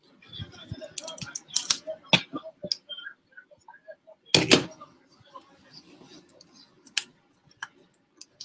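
Scissors snip through canvas in a series of short, crisp cuts with irregular gaps, close and fairly quiet, with a louder burst midway and faint handling noise between.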